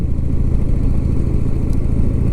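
A Harley-Davidson motorcycle engine under way, a loud steady low rumble with a throbbing pulse that holds constant throughout, close up and continuous with no talking.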